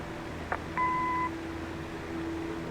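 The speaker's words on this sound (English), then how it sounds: "Leave a message after the beep." A short electronic answering machine beep in the video game Kathy Rain, two clean tones held for about half a second, follows a soft click over a quiet background hum.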